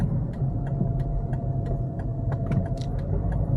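2007 Mazda RX8 with a rotary engine, driven and downshifting, a steady low engine and road drone heard from inside the cabin, with faint clicks and rattles above it and no speech.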